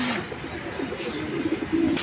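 Domestic pigeons at a Bangladeshi loft coo in low, rolling bursts, rising toward the end of a short stretch, close by with faint background noise.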